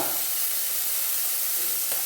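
Green beans, okra, ivy gourd, ginger and garlic fry in a pan with whole spices such as clove for a millet egg biryani, giving a steady close hiss and sizzle throughout the short stretch.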